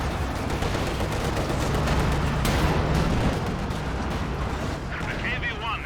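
Heavy tank cannon fire and explosions pound a Soviet KV-1 heavy tank in a Company of Heroes 2 match, a loud continuous barrage of booming shots and blasts with no gaps, thick and rumbling throughout.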